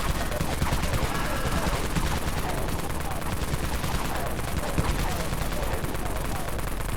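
Dawn Minigun firing nonstop in the video game Dead Frontier, a loud, dense, unbroken roar of rapid gunfire that holds steady for the whole stretch.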